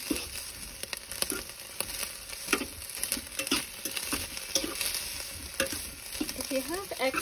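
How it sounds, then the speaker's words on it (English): Ground meat browning in a pan for goulash, with a steady close sizzle and frying hiss under repeated stirring and scraping of a utensil. No one speaks. "So what you want to do is brown it. That's the first step. So let's brown that up."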